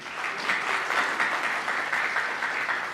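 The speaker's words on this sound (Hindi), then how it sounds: "जोरदार तालियां हो जाए" Steady applause from a crowd at a book launch, dense and continuous clapping throughout, moderately loud with no voices standing out.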